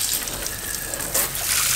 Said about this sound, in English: To turn on the cockpit shower, twist